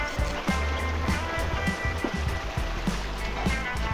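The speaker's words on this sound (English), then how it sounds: "switching to this rocky creek bed was a really nice change of pace" Water runs over stones in a rocky creek bed, a continuous close babble with small irregular splashes and knocks spread through it.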